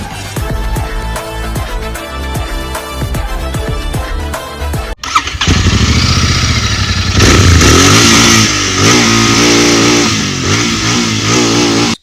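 A Royal Enfield Continental GT 650 with its stock exhaust: after a brief opening passage the parallel-twin engine fires up close and loud, then revs and idles with a deep, throaty rumble that fills the rest of the stretch.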